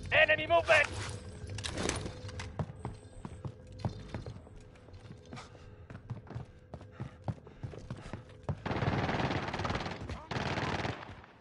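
Machine-gun bursts and scattered single shots in Call of Duty combat, loud near-field fire in short rapid volleys, with a heavy sustained burst near the end and shouted voices in between.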